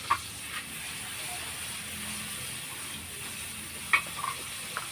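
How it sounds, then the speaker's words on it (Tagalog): Tomatoes and chili peppers are stirred together in a frying pan, giving a faint, steady sizzling hiss with a few soft scraping knocks from the utensil. "Haluin lang natin ng konti"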